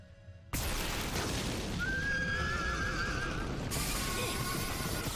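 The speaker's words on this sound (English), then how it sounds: "Giraffe dragon sounds like a horse." A giraffe-like dragon creature from the Made in Abyss anime gives a drawn-out, wavering horse-like whinny over a loud, dense rumbling background, followed by an abrupt shift in the noise.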